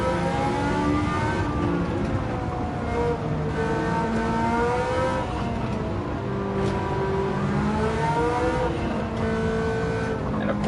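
A Ferrari F40 race car engine revs hard in a racing video game at Suzuka, its pitch sweeping up and down through repeated gear changes. The loud, steady engine note runs throughout without talk.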